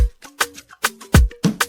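An unprocessed drum beat for hard-hitting production: dry kicks, snappy hits and ticking hi-hats in a quick, loud pattern, heard alone without talk.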